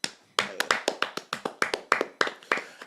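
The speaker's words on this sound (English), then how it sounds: "I want to start off with a clap." Hand claps on a talk show, a steady run of about a dozen sharp, close, crisp claps in quick succession with no talking over them.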